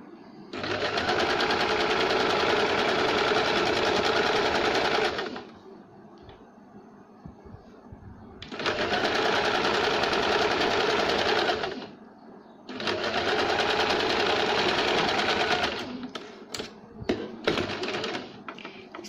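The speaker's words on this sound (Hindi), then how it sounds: "अब इसे यहाँ पे हम सिलाई लगाएंगे।" Sewing machine stitching an astar (lined) blouse, running in three long steady bursts of several seconds each, separated by quiet pauses, with a few short clicks and taps near the end.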